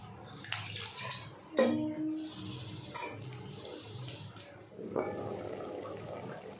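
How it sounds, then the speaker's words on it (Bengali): Water is poured into a pan of lightly fried helencha greens, sending up a sudden burst of sizzling that fades, followed by a second splash and hiss; softer clatter and stray background noises surround it. "তাই হালকা একটু ভেজে জল দিয়ে দিলাম।"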